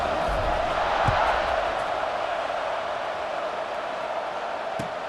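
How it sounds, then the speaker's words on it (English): Stadium crowd noise in the football video game EA Sports College Football 26 forms a steady, roaring wash of cheering before a kickoff, with a couple of brief thumps. "this crowd now ready to get behind them."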